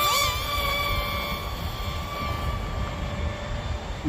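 A Sky Viper Vector RC stunt plane's small electric motor whines steadily at high pitch over a windy outdoor rumble, the tone shifting slightly as it climbs away.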